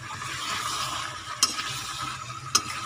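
Raw jackfruit is stirred into chicken curry masala in a pan, giving a soft continuous sizzle and scraping with two sharp utensil clicks against the pan, close by and without speech.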